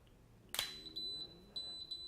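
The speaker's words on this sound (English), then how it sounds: "people have complained about the beeping on the camera" A sharp click followed by a series of short, high electronic beeps from a Vuze XR 360/180 3D camera, in two quick bursts, fairly close and quiet.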